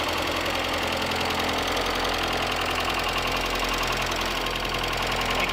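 A Mazda Miata 1.8 engine idles steadily at close range after an engine swap, with a faint hissing whisper from a vacuum leak under a continuous, even mechanical drone and light knocking rhythm.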